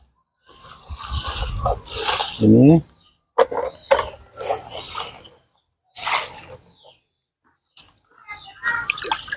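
Water splashes and pours over the soil of a potted tangerine plant in short bursts separated by pauses, close by, with a few spoken words in between.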